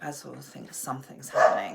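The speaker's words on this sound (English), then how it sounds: "So sorry about the barking." A dog barks and yips a few times in the background while a person keeps talking, with one louder bark near the end.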